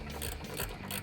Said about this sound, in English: I'm going to use my ratchet, my 16mm socket,